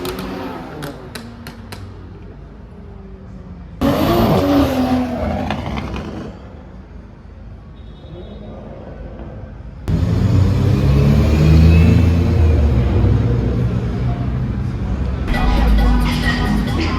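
Cars rev and accelerate at a late-night Nissan car meet, with engine roars surging loudly in bursts around the middle and end, over crowd chatter and voices throughout.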